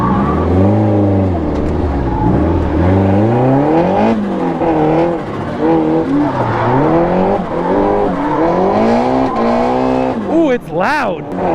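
A drift car's engine revving hard and swinging up and down in pitch with tire squeal, loud and close throughout, with a sharp high screech near the end.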